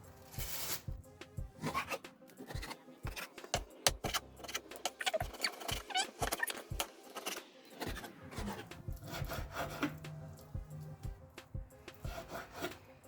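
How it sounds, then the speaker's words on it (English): Knife cutting beef into small pieces on a board, with a dense run of repeated close, sharp taps and scraping strokes throughout and no talk. "then we cut the beef into small pieces"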